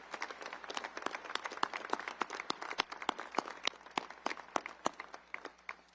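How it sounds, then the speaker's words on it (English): Scattered applause at a military academy cadet graduation ceremony, a thin crowd with distinct individual claps popping out irregularly, moderately distant and fairly quiet throughout. "how about a round of applause for the entire village that brought these cadets to where they are"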